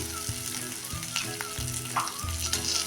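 Potato pieces with turmeric, cumin, ginger and garlic fry in a pan while being gently stirred, giving a close, steady sizzle with soft scraping under background music.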